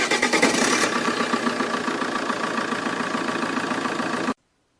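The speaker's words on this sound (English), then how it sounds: "The powerful diesel motor sprang into life, sending a vibration through the whole vehicle." A diesel fire engine cranks and fires into life, then settles into a heavy, rhythmic knocking idle heard close up before cutting off abruptly.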